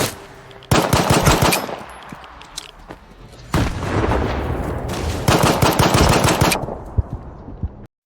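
Bursts of automatic gunfire and heavy weapon reports in the first-person shooter Stalker 2: Heart of Chornobyl, loud and sustained in several long volleys separated by brief lulls, with rattling echoes trailing off near the end.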